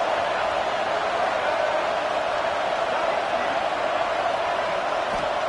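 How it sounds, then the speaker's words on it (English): A loud, dense stadium crowd roars steadily throughout at a playoff football game between the Florida Gators and Texas, forming a continuous wash of noise with no distinct voices standing out. "listen to this crowd noise. The stadium is vibrating."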